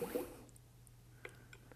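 A capped sample jar being filled underwater in a bucket for dissolved oxygen testing, a brief gurgle of water at the start followed by faint scattered drips and small bubbling clicks, quiet and close with no talking.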